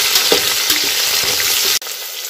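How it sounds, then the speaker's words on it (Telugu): Tomato, green chilli, curry leaves and coriander frying with onions for Andhra egg biryani, a dense close sizzle with stirring scrapes, cut off abruptly and followed by a quieter hiss. "2 టమాటా, 2 పచ్చిమిర్చి, కరివేపాకు, కొత్తిమీర వేసుకొని బాగా ఫ్రై చేసుకోండి"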